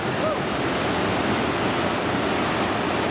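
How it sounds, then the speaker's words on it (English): The waterfall on Cathedral Creek rushes in a dense, steady white roar, loud and unbroken from start to finish with no other sounds standing out. "There's a nice waterfall."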